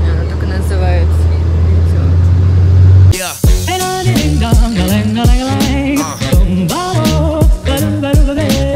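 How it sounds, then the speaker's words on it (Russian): A car drives along a road on the island of Capri, Italy. A low, steady engine rumble is heard alone for about three seconds, then loud music takes over and covers it for the rest of the clip. "мы едем по этой дороге"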